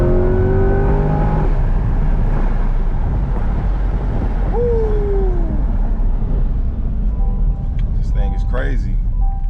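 A C8 Corvette sports car accelerates, its engine note climbing in a loud rising rev before easing off. A voice speaks briefly near the end.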